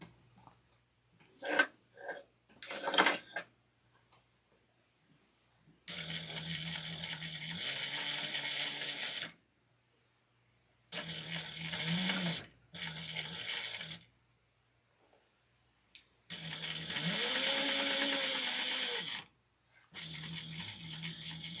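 A home sewing machine stitches around the curved pocket shape of an apron in several separate bursts of whirring and rattling, with short pauses between them as the fabric is moved and turned.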